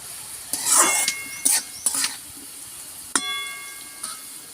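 A spatula stirring and breaking up fried potatoes in a pan, with bright metallic scrapes and clinks in a few bursts and a faint sizzle underneath, heard close.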